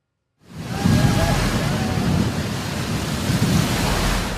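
Sea waves wash in at Odesa's Tenth Station of Fontan, the city's largest beach, a broad continuous rushing surf that swells in after a brief silence and stays loud and steady.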